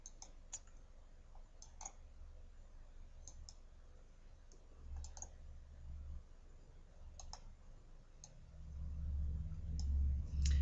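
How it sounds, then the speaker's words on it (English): Computer mouse clicking on objects during a software tutorial, sparse quiet single and double clicks spread across a low background hum. "or by holding Control and clicking on objects."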